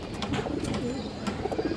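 Pakistani high flyer Rampuri female pigeon cooing close by, a steady run of soft low coos with no voices.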